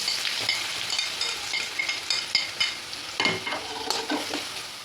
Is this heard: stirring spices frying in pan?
yes